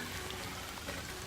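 Heavy rain pours steadily outdoors, a dense, even hiss of drops hitting surfaces that runs unbroken through the whole moment with no voices.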